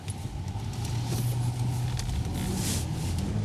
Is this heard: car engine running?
yes